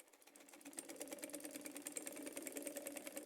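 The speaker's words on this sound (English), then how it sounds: "So I'm going to be sewing this. I'm going to be sewing it round." A sewing machine runs continuously while stitching around a lycra dress, giving a fast, even needle rhythm with a steady motor hum, close up and alone.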